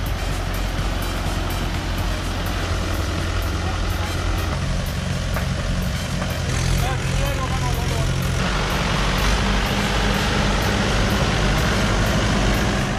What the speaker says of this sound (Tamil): டிராக்டர் ஓட்டுறது ரொம்ப கஷ்டமாக இருக்கும் போலியோ